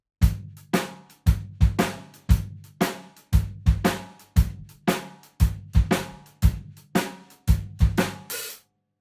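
Drum kit playing a standard shuffle with a bass drum variation on the 1 and 3 feel. Steady triplet-based hits repeat in tight groups, close and punchy, with a crash at the end and no talking.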